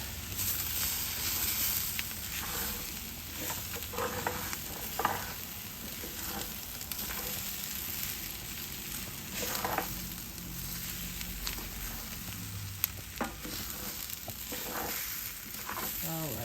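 Flour being stirred into a vegan green chile stew as it fries in the pot, a steady soft sizzle with scraping stir strokes running throughout, moderately close with no talking.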